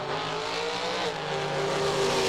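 A Chevy Camaro and a Blitzkrieg Roadster run a drag race, their engines roaring steadily and rising in pitch as they accelerate down the strip, loud and continuous.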